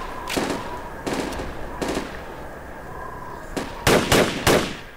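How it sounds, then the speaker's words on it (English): Suppressing gunfire in the military shooter game Project Reality: spaced single shots at first, then a tighter cluster of louder, sharper cracks near the end, set against a steady low background. "Keep up suppression fire on the attack command"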